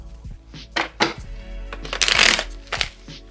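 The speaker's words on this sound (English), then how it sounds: "I'm gonna do one traditional shuffle" Tarot cards being shuffled by hand in one traditional shuffle, giving a run of crisp riffling bursts and soft taps close up with a faint low hum behind.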